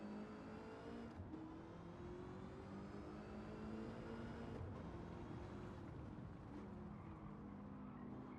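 Race car engines in Gran Turismo 7, with a Lamborghini among the field: a steady, droning engine roar with rising and falling pitch as the cars accelerate and shift, continuous throughout with no talking.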